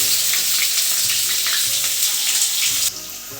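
Finely chopped onion hits hot oil with a loud, steady sizzle and crackle that continues throughout, no voices.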